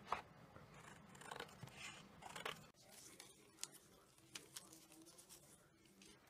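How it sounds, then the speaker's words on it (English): Scissors snip through paper to cut out strips for a recycled jam jar lantern, a soft run of quick crisp cuts and rustles close by and quiet, with no talking. "And I'll cut those out."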